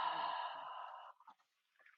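A single long, breathy exhale through an open mouth, as if fogging a glass, heard close up, then a few faint breath noises.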